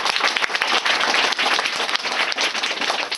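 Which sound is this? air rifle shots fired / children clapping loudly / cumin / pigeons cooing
children clapping loudly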